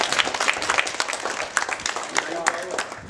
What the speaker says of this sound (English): And now you clap.